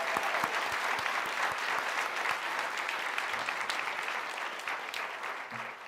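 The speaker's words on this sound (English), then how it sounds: "let's give her a big round of applause" A summit audience applauds warmly, a full wash of clapping with a few distinct close claps early on, gradually tapering toward the end.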